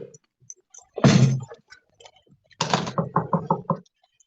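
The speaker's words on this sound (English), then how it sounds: "Knock at the door." Knocking at a door: a heavy thud, then a quick series of about six loud, close raps on wood, with quiet gaps between.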